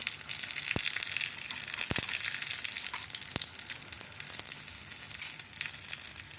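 Dried red chilies sizzle steadily in hot oil, a dense crackling fry with a few sharp pops, heard up close and alone with no talk.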